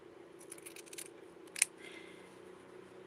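Scissors make a few soft snips and one sharp, crisp cut through fabric for a small doll dress, close and quiet with no talk.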